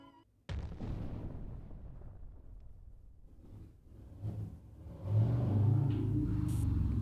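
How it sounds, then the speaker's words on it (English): A loud car rumbles in the visual novel game Umineko, a deep low engine drone that starts abruptly, eases slightly mid-way, then swells heavier and louder toward the end. "That is a loud car."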